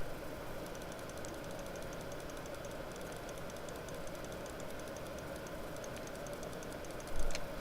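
A computer mouse clicks rapidly over and over while a photo is being retouched, a fast, faint patter of light taps over a steady background hum, with a slightly louder bump near the end.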